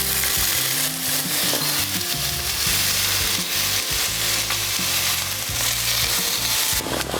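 Zucchini fries in oil in a pan with a loud, continuous, close sizzle and crackle throughout, along with occasional scraping from stirring.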